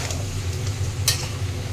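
Prawns with turmeric fry in hot oil, giving a steady close sizzle with faint crackles and one brief sharp spatter partway through, and no voices over it.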